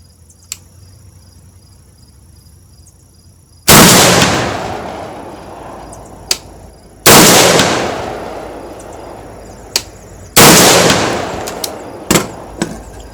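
Three loud gunshots from a firearm being zeroed with a Holosun HE503CU-GR red dot at a shooting range, evenly spaced a few seconds apart, each with a long ringing decay, plus a few sharp distant shots between them.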